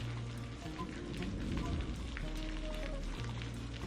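Steady patter of rain falling on a surface, with scattered heavier drops and a low rumble underneath, continuous and fairly close.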